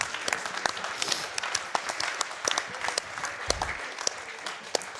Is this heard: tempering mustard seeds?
no